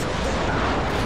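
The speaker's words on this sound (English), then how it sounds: "Friendly predator missile inbound." A predator missile explosion in Call of Duty Modern Warfare 3 on the Seatown map: a brief, loud, dense roar of blast noise filling the whole moment.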